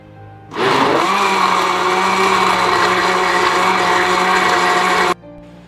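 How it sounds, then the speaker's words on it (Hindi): A blender whirs mango chunks with cold drink, starting abruptly, running as a loud, steady motor roar for about four and a half seconds, then cutting off. "आखिर में हम इसके अंदर कोल्ड ड्रिंक डालेंगे और फिर इसको ब्लेंड कर लेंगे"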